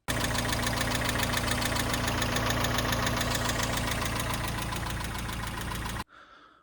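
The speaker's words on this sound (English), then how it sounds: "the Miata has started to develop a lifter tick" A Mazda Miata engine idles with a fast, steady ticking from a lifter running low on oil over a constant mechanical drone, loud and close, cutting off abruptly near the end.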